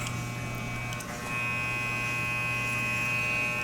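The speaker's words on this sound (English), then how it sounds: "So I'm using either the edge of my clipper by flipping it back" A barber's electric hair clipper hums steadily at close range with a constant mains-like buzz, a brief dip near one second, then continuing unbroken without talk.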